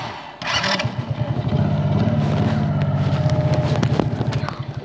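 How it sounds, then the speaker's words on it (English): A four-wheeler's engine revs loudly and close by, rising into a steady throaty drone that holds for several seconds and then fluctuates, with wind noise around it and no talk. "Do you hear that rev of the engine?"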